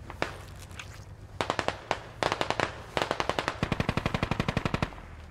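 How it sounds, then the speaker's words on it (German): Gunfire in the video game Squad: scattered single shots, then rapid automatic bursts building into a long, fast stream of loud cracks, with no talking over them. "Beschuss aus Nordost."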